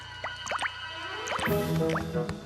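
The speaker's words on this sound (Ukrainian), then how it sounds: "Дивися, кам'яні зуби капають." Water drips from stalactites inside a cave, a scatter of close, resonant plinks and drops with a steady low hum beneath.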